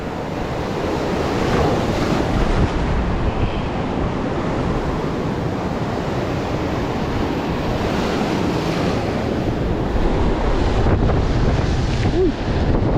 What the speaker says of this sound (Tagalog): Lakas ang alon ngayon mga master.